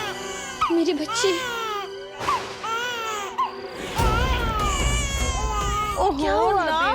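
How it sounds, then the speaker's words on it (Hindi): A baby girl cries in high, wavering wails mixed with whimpers, close and continuous, while adults talk over her in a TV drama scene with background music swelling midway. "हमारी बच्ची तो रो ही रही है,"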